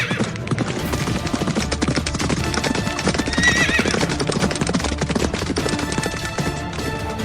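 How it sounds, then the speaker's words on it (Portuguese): Horses gallop away with rapid, loud hoofbeats pounding in a dense rhythm, a horse neighing briefly partway through. "subiram nos cavalos e fugiram"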